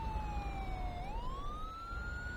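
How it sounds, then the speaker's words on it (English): An emergency vehicle siren in the video game OurLifeRPG wails continuously, its pitch dipping and then sliding back up, steady and fairly faint with no talking over it. "It's weird the siren's still going."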